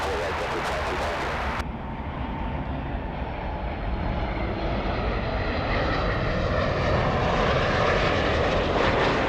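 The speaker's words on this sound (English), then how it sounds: "Delta 2223 Los Angeles Tower, wind calm, runway 24 right, clear to land." A Delta airliner on approach to runway 24 right at LAX, a loud continuous engine roar that swells and holds steady across the whole stretch, with broad rumbling noise and no clear breaks.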